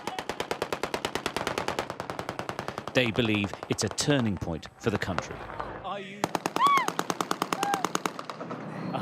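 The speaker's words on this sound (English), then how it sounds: "Despite the gunfire, are you happy?" Celebratory machine gun fire in Syria after the fall of Assad, rapid loud bursts of automatic rounds opening and closing the scene, with a reporter's voice and crowd shouting in between.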